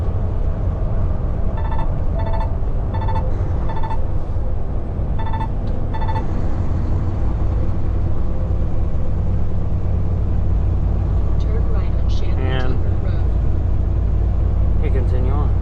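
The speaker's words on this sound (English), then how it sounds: "day after day driving this truck" A truck rolls along the interstate with a steady low drone of engine and road noise throughout, broken by a few short electronic beeps early on and a brief rising tone near the end.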